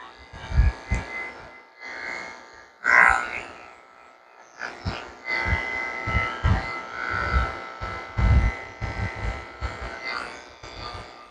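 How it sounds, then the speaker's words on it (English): Electric clippers fitted with a 30 blade shave the paw pads of a Golden Retriever, a buzzing hum that comes in stops and starts with bumps and rustles, close and fairly loud. "Shave out the pads of his feet with this 30 blade."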